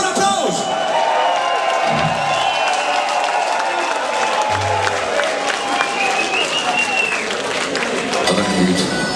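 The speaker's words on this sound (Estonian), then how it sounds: "Tehke endale üks suur aplaus!" Loud, sustained audience applause and cheering from a crowd at the Sindi Rock festival concert, with steady clapping and occasional whoops filling the whole stretch.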